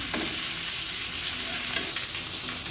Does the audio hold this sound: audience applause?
no